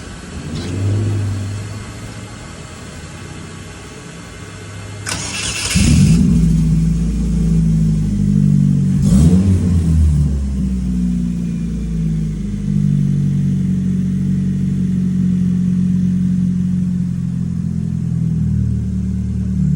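A car engine cranks over and catches around the five-second mark, then revs up and settles into a loud, steady rumbling idle with a second burst of revving, continuous and close throughout.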